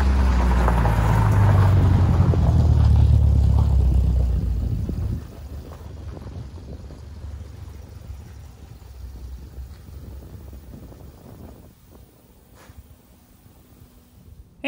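A 1975 MGB in fourth gear at about 45 mph, its engine drone and road rumble loud and close for the first five seconds, then fading to a steadier, quieter cabin and wind noise.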